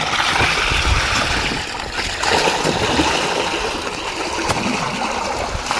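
Water pours and splashes steadily close by in a farm field, a continuous gurgling trickle with small irregular splatters.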